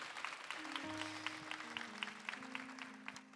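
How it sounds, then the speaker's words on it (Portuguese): Applause from a congregation at a Catholic rosary prayer gathering, celebrating an 82nd birthday: a steady patter of hand claps over a low hum of sustained tones, moderately loud throughout. "Salva de palmas para ela."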